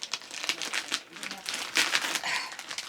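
Dull scissors chew slowly through a crinkly plastic bag while unboxing a small sewing machine, giving close, continuous crackling and crumpling for about three seconds.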